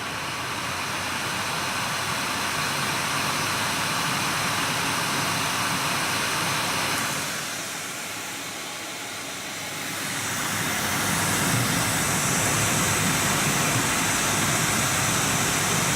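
Nvidia GTX 980 reference graphics card blower fan running at full speed, around 4,200 RPM, a loud steady rushing whoosh that dips briefly midway and then returns slightly brighter, with no voices.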